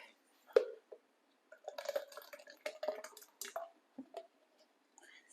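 Salad dressing for a kale and cauliflower wrap is poured into a small bowl, giving soft, intermittent wet drips and squishy splashes up close, with no one speaking.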